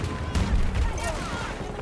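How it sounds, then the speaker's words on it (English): Rapid bursts of gunfire crackle with muffled booms in Battlefield 2042, dense and continuous over a low rumble for a couple of seconds. "So many explosions going on right now."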